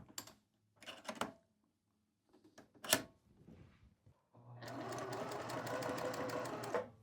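A Juki 2010 sewing machine clicks a few times during setup, then runs a steady, close, buzzing stitch for the last couple of seconds, loud and alone.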